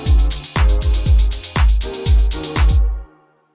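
Programmed drum pattern from a customized Maschine Purist kit: punchy kicks and snappy hits repeating in a steady groove for about three seconds, loud and close, then cutting off cleanly.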